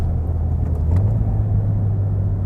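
A 2015+ Subaru WRX engine fitted with an AEM cold air intake gives off a steady, loud, deep rumble with a constant low drone and a slight swell midway, heard alone without speech.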